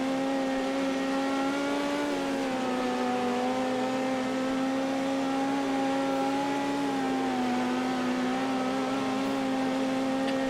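A midget race car engine screams at full throttle on a dirt oval in iRacing's World of Outlaws racing. It is one loud, sustained high-pitched drone whose pitch dips and rises slightly through the corner.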